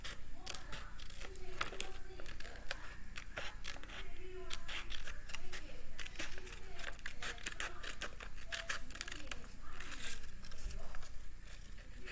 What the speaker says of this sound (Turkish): Şimdi önce kağıdımızı kesmeye başlıyoruz.